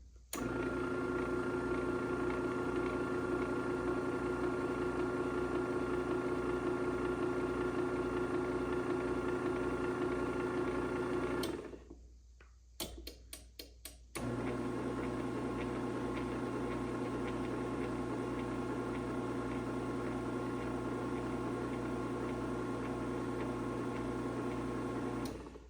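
A brand-new 2007 LiftMaster 3280 garage door opener runs with a steady loud motor hum for about twelve seconds, stops briefly with a few clicks, then starts again and keeps humming steadily to the end.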